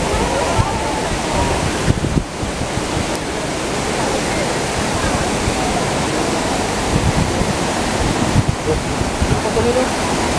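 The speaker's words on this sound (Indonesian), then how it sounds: "air terjun Dua Warna ini ya." The Dua Warna waterfall near Sibolangit in North Sumatra, a constant loud rush of falling water that fills the whole scene without letup and drowns out any other sound.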